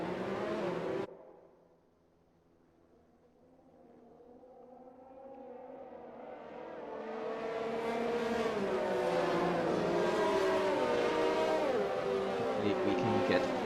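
Race cars in F1 2020 on the Baku street circuit: after an abrupt cutoff, engine whine builds gradually from faint to loud as cars accelerate and pass, layered and sustained to the end.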